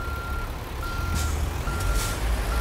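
Reversing beeps from a truck backing up to hook a trailer in American Truck Simulator: steady repeated electronic tones over a low engine rumble, with air-brake hiss bursts.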